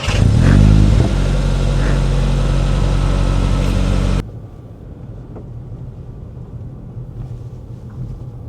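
A 2024 Cupra Formentor V2 SUV of about 150 horsepower gives a loud, close engine rev at the start, then holds a steady hum before cutting to a quieter low drone with faint background sounds.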